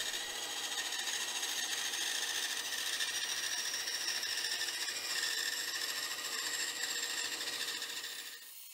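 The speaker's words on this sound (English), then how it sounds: "that'll give me a guide for roughly cutting it out of the bandsaw" A bandsaw roughly cutting a wooden piece out for a tensegrity plinth, a steady, fairly quiet whirring hum with a rasping edge that runs continuously for about eight seconds and then fades down.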